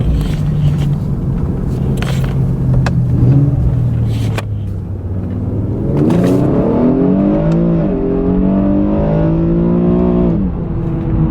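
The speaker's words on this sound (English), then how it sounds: "It should be a little more engine noise, it should sound a little better." A big-turbo Mitsubishi Evo 9 engine rumbles at idle, then revs up with rising, strained tones as it accelerates, loud and close.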